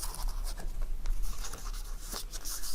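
Ink pad dabbed and dragged along the edge of a folded paper page, giving soft, repeated scuffing and rubbing strokes that sit close and fairly quiet, with no voices.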